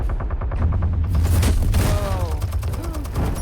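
Turret gunfire in the video game Batman Telltale: a sustained, dense volley of rapid shots over a heavy low rumble, loud and continuous throughout.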